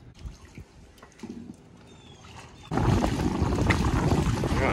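Paddles splash and churn the water beside a small paddled catamaran, quiet dribbling strokes at first, then a sudden loud, sustained rush of close water and wind noise.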